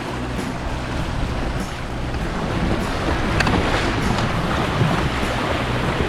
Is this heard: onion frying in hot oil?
no